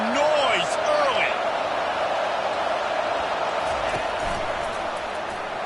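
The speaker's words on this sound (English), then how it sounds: "This crowd bringing the energy and noise early." Crowd noise fills a stadium at an FSU versus Ohio State college football game, a steady roar with whistles and shouts rising over it, loudest at the start and easing slightly.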